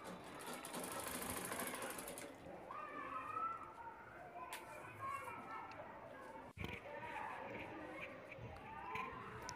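A sewing machine stitches a belt onto a tiffin box bag, its close whirring rattle running in bursts with short pauses and a sharp click partway through, while a voice talks over it.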